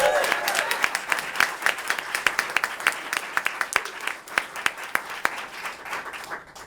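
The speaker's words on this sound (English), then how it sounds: "Give Time's Up a round of applause." An audience applauds the advocates of the Time's Up movement at a New York governor's press event, with a dense burst of clapping that gradually thins and fades over several seconds.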